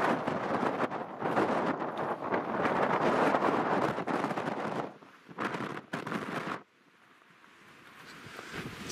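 Wind gusts across a remote, empty stretch of Cofete Beach on Fuerteventura, a loud, steady broadband roar with buffeting surges that suddenly drops away near the end as the wind is blocked, leaving a faint rushing hiss.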